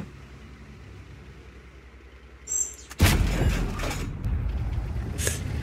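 A Polish tank's cannon fires in World of Tanks with one loud, sharp boom that rolls into a rumbling tail, followed by smaller clanks and a softer blast.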